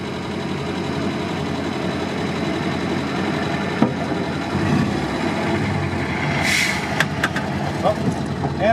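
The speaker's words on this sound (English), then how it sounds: "There's a big truck coming." A big semi truck passes close on a narrow little road, heard from inside a 1963 Volvo PV544 as a steady engine rumble and road roar that swells and fades, with a few sharp clicks and rattles near the end.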